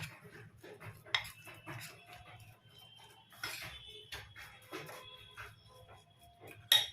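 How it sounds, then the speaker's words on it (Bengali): Ground black pepper being stirred and mixed into a breakfast batter in a bowl, with light scattered clinks and scrapes of a spoon against the dish at close range, no voices. "গোলমরিচের গুঁড়ো দিয়ে ভালোভাবে মিক্স করে নিচ্ছি"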